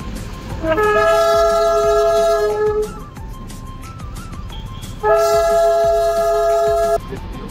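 The Darjeeling toy train on its hill railway sounds two long, loud horn blasts separated by a pause, over a steady rumble of the running train.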